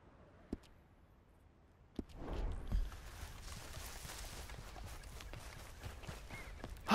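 Horse hooves clip-clop at a steady gait while riding in Red Dead Redemption 2, soft and moderately distant over light ambient game noise, with a couple of sharper knocks.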